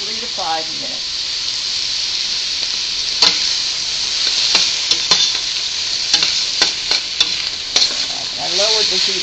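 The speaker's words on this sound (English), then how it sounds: "Continue cooking, stirring often until the vegetables are softened and the pan has a little fond along the bottom." Vegetables for minestrone soup sizzle loudly in a pan while being stirred, steady frying hiss punctuated by clattering spoon scrapes, with a voice briefly audible at the start and end.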